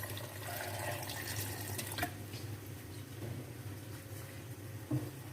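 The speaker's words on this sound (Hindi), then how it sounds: "पानी ऐड कर देते हैं तकरीबन 2 से 3 गिलास।" Water poured into a jug while making strawberry juice, a soft continuous trickling and splashing stream at close range, faint and steady with a couple of small knocks.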